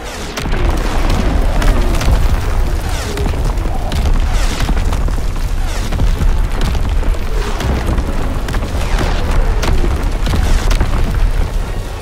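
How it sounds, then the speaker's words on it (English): Incoming enemy artillery in a video game lands as a dense, loud barrage of booming explosions and crackling debris, rolling continuously without a break. "Incoming enemy artillery! Get to cover!"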